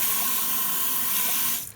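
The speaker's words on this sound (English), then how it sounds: "next thing to do is to rinse well and then towel dry" Running tap water splashes steadily as a human hair wig is rinsed under the faucet, a close, even hiss that stops abruptly near the end.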